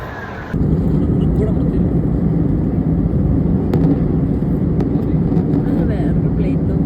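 A steady, loud, low roar of airplane cabin noise fills a Delhi to Srinagar flight, constant throughout after a brief quieter start, with no distinct voices above it.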